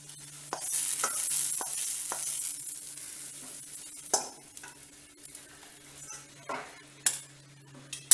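Hot oil tempering sizzles sharply as it is poured into tomatoes for pickle, followed by soft stirring and faint clinks of a utensil against a pan, with no talking.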